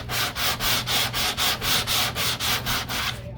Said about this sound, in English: I did it last night, so 12 hours, it's ready to sand.